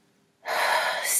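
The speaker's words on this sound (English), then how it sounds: "So you breathe in," A slow, calming in-breath taken during a relaxation breathing exercise, a soft airy inhale rising from quiet and holding steady for about a second, close and fairly loud.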